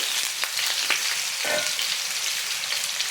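Potato slices for a chips-style fry crackle and sizzle steadily in hot oil, a close, continuous frying hiss with small pops and a brief stir near the middle.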